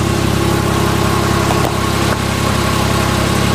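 A Porsche engine idles with its original stock exhaust, a loud, steady, close rumble that holds constant for the whole stretch with only a slight dip partway through.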